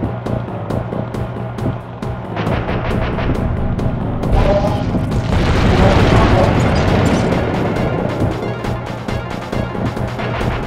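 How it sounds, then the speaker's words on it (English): Missile explosions in a Sly Collection boss fight, heavy rumbling booms swelling over a dense game soundtrack and effects, peaking midway and then easing, with a voice speaking over the din. "My missiles don't hurt him but seem to create holes in his armor."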